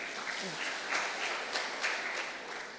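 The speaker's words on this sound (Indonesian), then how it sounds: "Tepuk tangan untuk GKI Karangsaru." A congregation at GKI Karangsaru church in Semarang claps together during a Sunday service, a steady, fairly soft wash of applause that keeps going for a few seconds with slight swells, and a faint voice underneath.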